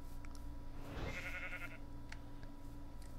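A sheep bleats once in a video game, a short wavering call at moderate distance over a steady low background hum, with a few faint clicks around it.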